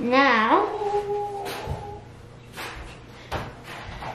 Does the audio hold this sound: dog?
yes